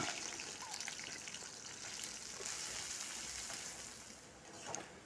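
Okra frying in hot oil in a home kitchen gives a steady, soft sizzle and crackle, faint and continuous with occasional small pops, and no one talks.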